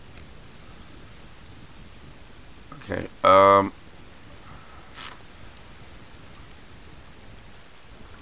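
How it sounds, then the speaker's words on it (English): Steady rain falls outdoors in a continuous, even patter, with someone speaking briefly over it and a few short sounds of handling. "Holy jeez, it's raining again."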